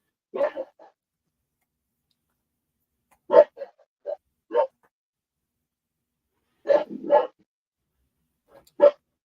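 A dog barks in several short bursts of two to three yaps, separated by long quiet gaps, fairly close and alone with no talk over it.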